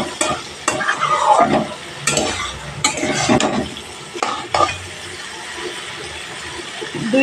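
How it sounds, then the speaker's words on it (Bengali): Potatoes sautéed in a pan for Bengali chital fish curry, stirred vigorously over medium flame: repeated loud scraping strokes and clatter over a continuous sizzle, close by. "আলুগুলো দিয়ে ভালোভাবে কষিয়ে নিতে হবে।"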